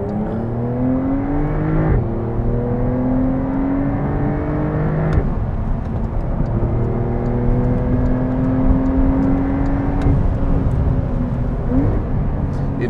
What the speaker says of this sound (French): on va pouvoir accélérer très fort